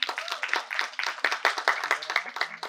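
Scattered hand clapping from a small audience at a farewell party, a steady patter of moderately close claps that rises and falls in waves without pause.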